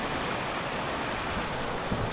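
Rapids of a stream on a Savage Gulf trail in Tennessee rush in a steady, broadband roar with wind noise on the microphone, continuous and close throughout.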